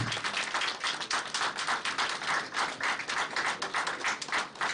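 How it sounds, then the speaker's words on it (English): Steady, dense applause from a conference audience at an international management institute event, many hands clapping at once without a break, fairly close and even in loudness throughout. "Let's celebrate it with a huge round of applause."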